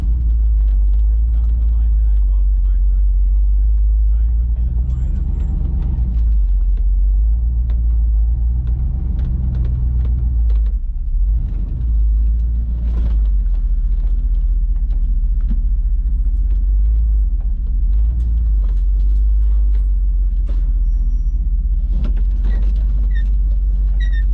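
A big 4x4 truck crawls along a tight, tree-lined off-road trail among redwoods, its engine a steady low rumble that swells and eases as it maneuvers, with occasional clunks and a person talking over it.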